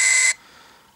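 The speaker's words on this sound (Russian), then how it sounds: "будет срабатывать звуковая сигнализация" A shrill electronic alarm tone from an SRP-88 radiometer sounds loudly, cuts off briefly, then starts again, like a repeating beep.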